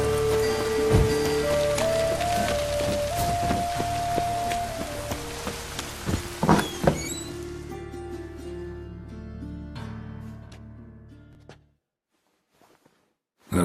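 Rain falls in the Witcher 3 video game on PS4, a steady dense patter of drops on surfaces. Tonal game sounds play over it before it fades out and ends in near silence.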